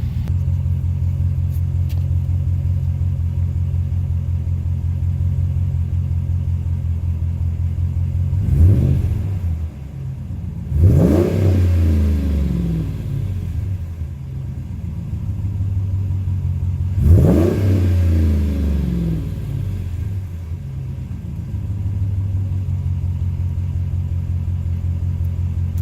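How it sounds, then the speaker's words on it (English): A Ram 1500 pickup with a 5.7L engine, JBA shorty headers and an 18-inch Totalflow muffler idles with a steady deep rumble, broken by three sharp throttle blips that rise and fall quickly. "All right, let's get some revs on it."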